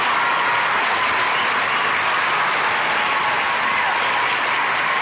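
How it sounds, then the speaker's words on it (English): A room full of people claps in a sustained, even round of applause, loud and close, with no speech breaking through. "Matt, give her a round of applause."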